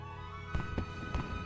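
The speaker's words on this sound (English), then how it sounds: "Fireworks." Fireworks in The Legend of Zelda: Breath of the Wild, three soft popping bursts spaced about a third of a second apart over a faint steady game hum, quiet and distant.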